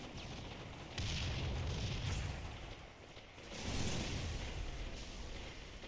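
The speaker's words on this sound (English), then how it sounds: "Throw a pistol grenade right over there." Grenades go off in Halo MCC big team battle, two or three muffled, heavy booms with rumbling tails rising over a constant noisy battle background, moderately distant and without talk.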